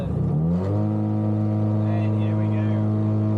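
Motor glider engine, an AS 33 Me, cranking and catching in flight, rising quickly into a loud steady drone with strong, even tonal harmonics that holds for several seconds.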